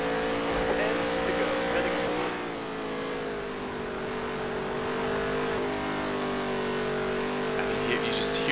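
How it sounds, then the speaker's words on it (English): A NASCAR race car engine in a video game drones at steady pitch, dipping and sagging briefly as it bogs down in a turn before picking back up, with faint talk underneath. "the engine bogged down right there in turn two."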